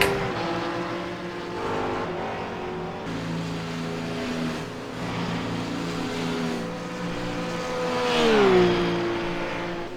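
GT race car engine screaming at full revs during the Bathurst 4 Hour endurance race, a loud continuous high-pitched drone with shifting harmonics that sweep up and down as it accelerates, with no talk.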